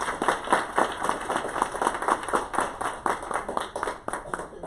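An audience at a library Black History Month event applauds, many hands clapping in a distinct, rhythmic patter that stays fairly steady and moderately loud throughout.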